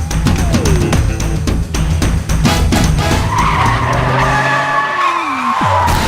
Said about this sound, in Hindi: अबे अपनी गाड़ी ठोक दी।